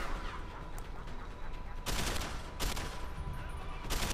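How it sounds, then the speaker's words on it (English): Gunfire in the video game Deus Ex: Human Revolution, loud close bursts cracking out in quick clusters, with the sharpest volleys near the middle and at the end. "Burst fire."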